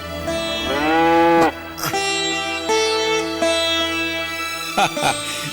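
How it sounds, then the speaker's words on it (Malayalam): Cattle being led out to graze let out several long, loud moos, one after another, with a short gap near the end before another call. "എവിടെയാ ഈ പശുക്കളെ കൊണ്ട് പോകുന്നത്?"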